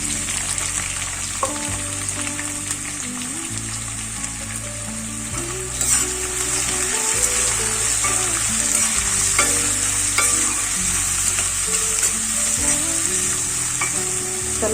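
Chopped garlic and onion sizzle steadily in hot oil in a pan for bhendi fry, a loud, constant hissing crackle over a low background hum with no talking.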